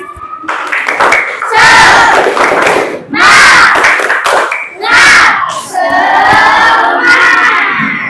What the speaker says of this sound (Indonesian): Coba mana tepuk semangatnya?